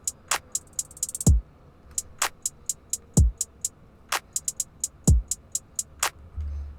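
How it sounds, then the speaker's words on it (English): Pluggnb beat drums without bass: crisp hi-hat ticks in a bouncing two-step pattern with quick rolls, punctuated by a few deep pitch-dropping 808-style kicks and snappy claps, loud and dry with no voice. "All the drums together besides the bass sound like this."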